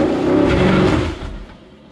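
A Ford Mustang doing a burnout on track, with loud, close engine roar and revving. The noise swells, then drops away sharply after about a second and leaves a quieter tail.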